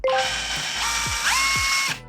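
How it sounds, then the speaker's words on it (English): A cordless drill spins in reverse against screws in a wooden medieval folding chair, giving a close, steady whirring motor drone for about two seconds with a couple of brief ratcheting slips as the bit fails to grip. "maybe just with a drill in backwards and screw them out"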